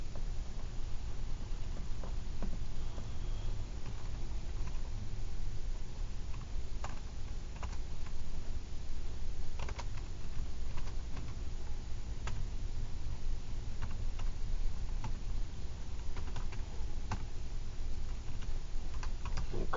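Steady, fairly quiet typing on a computer keyboard, entering a cosine formula into the Desmos calculator. Scattered key clicks sound over a constant low hum, with no talking.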